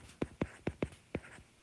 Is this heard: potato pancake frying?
no